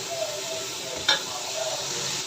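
Chopped tomato and medium-size hot green chillies sizzle in a pan for mutton yakhni pulao, with a steady fry and a single quick stir or scrape partway through.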